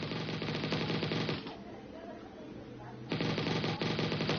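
Rapid automatic gunfire from the Mini Militia mobile shooter game, dense bursts at the start and end with a quieter lull in the middle.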